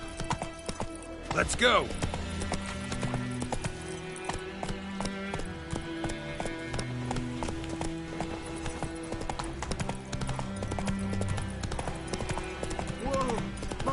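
Roach, Geralt's horse in The Witcher 3: Wild Hunt on PS5, trots with steady clip-clopping hooves and a brief snort, under game music and a shouted line.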